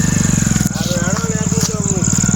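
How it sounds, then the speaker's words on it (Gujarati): A motorcycle engine drones close by with a steady, pulsing idle, while voices talk loudly over it on a village road. "એક બાઈક આવે"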